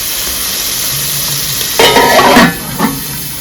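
Coconut milk rice ingredients frying in a covered pan, a steady low background hiss broken by a louder burst of sizzling and clattering stirring in the middle, then a shorter flare near the end.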